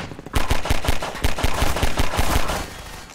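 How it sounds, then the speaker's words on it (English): Half-Life 2 gunfire crackles in fast automatic bursts, loud and close, with sharp shots rapidly repeating for a few seconds before trailing off. "We're getting shot at"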